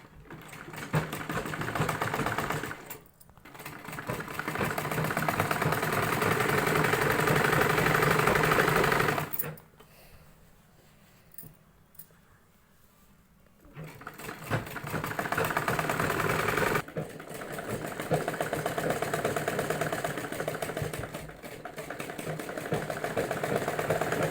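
Sewing machine stitching the front fold of a salwar belt, running in loud steady bursts with a brief pause of near quiet in the middle before the motor picks up again.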